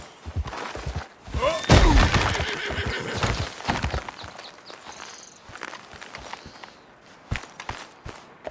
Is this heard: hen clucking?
no